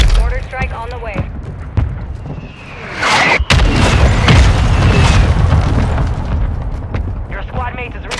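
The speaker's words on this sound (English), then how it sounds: "Requesting fire mission. Target marked. Mortar strike on the way." Mortar strike explosions in a military shooter game, a heavy booming blast rolling into sustained rumbling debris, with gunfire and other battle noise around it and voices speaking over the action.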